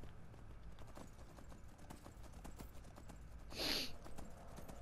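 Faint horse hooves in Skyrim clip-clop at a steady trotting pace, fairly distant, with a brief louder hiss near the end.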